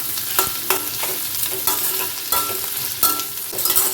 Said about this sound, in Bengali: পুরোটা একসাথে একদম হাই ফ্লেমে ভাজছি